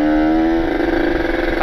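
A Kawasaki Ninja RR two-stroke motorcycle with an aftermarket ABRT20 galvanized exhaust with a 26 mm stinger idles close by with a loud, steady, buzzy engine note and a slight rise in pitch, with no voices.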